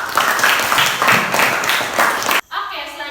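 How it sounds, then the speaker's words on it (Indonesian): Classroom of students applauds a student group, a dense burst of many hands clapping in fairly even pulses for a couple of seconds before breaking off abruptly, followed by a short tail of voices. "sekarang kita beri tepuk tangan semuanya untuk kelompok 2"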